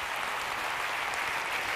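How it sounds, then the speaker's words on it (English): A conference keynote crowd applauds the lighting crew, a dense, even roar of many hands clapping with no distinct individual claps, steady and moderately loud throughout. "So give them a round of applause."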